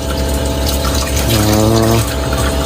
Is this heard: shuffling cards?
no